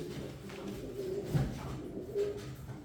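A pair of Jefferson crested pigeons coo softly, with two short low calls close by over a faint, steady background.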